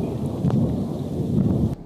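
Thunder rumbles low and steady through an electrical storm with hail, a broad rolling roar with faint rain-like hiss and a brief crack partway through.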